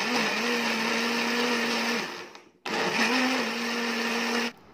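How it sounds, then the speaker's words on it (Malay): A kitchen blender whirs loudly as it purees onion, belacan, garlic and water for northern-style laksa paste, running in two steady bursts separated by a brief pause, close to the microphone. "Kemudian masukkan air ke dalam jug blender dan jom kita blender."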